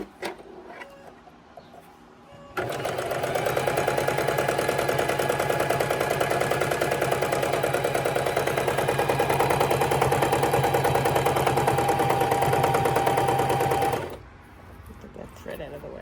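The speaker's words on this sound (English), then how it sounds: "I stitch directly on to the fabric from the drawing" A sewing machine stitches directly onto fabric, following a drawn plant design, a fast, steady, close mechanical whir with tight rhythmic ticking that starts abruptly, holds for about eleven seconds, then stops, with brief quiet before and after.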